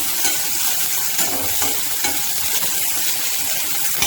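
Onion frying in a pan for palak paneer, with ginger pieces cooking alongside: a steady, close, dense sizzle that holds evenly throughout, broken only by faint stirring scrapes, with no voices.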